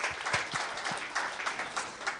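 A church congregation applauds during a sermon, a steady patter of many hands clapping at moderate loudness, filling the room without speech over it.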